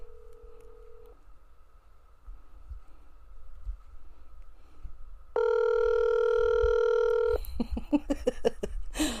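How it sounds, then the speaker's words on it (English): A telephone call is placed and rings out: a short tone, a pause, then a sustained loud ringback tone followed by a rapid burst of clicks and pulses, with quiet background noise beneath. "Let's get him on the phone."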